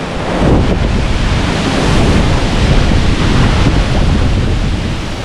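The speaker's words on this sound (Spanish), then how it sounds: "hasta la gran cascada del Tajo de Ronda" The great waterfall of the Tajo de Ronda roars as a loud, dense, unbroken wash of rushing water, with gusts of wind buffeting the microphone.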